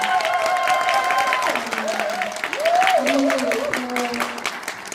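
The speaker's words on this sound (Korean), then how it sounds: "힘찬 박수 부탁드리겠습니다." Applause and cheering from a gathering of women business owners at a monthly meeting, welcoming a National Assembly member, with a voice talking over the clapping in a hall.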